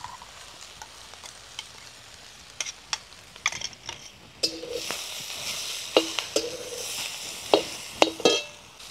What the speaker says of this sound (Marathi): आता आपण जी मिक्सरमध्ये ग्रेव्ही केलेली होती ती आपण टाकून घ्यायची.